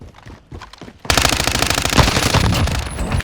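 LC-10 SMG gunfire in Call of Duty: Warzone: after a quiet opening, a loud, rapid sustained automatic burst breaks in and runs steadily to the end.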